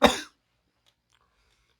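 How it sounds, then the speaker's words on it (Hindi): A single sharp, close cough from a person with a bad cold, loud and abrupt, followed by near silence. "खांसी हो गई है बहुत तेज"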